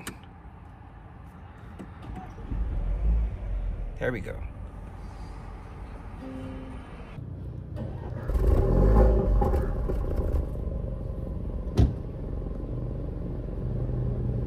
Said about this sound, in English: to start the engine, just put your foot on the brake and push the button to start